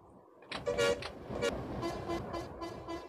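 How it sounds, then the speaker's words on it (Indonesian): Several short car horn toots sound over steady road noise, fairly close, with a few repeated honks spread across the moment. "mereka balas klakson guys"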